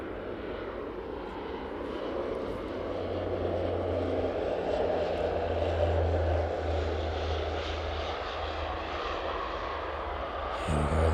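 A large airliner touches down on the runway at East Midlands Airport, its steady engine roar building and holding loud and fairly near, with no voices.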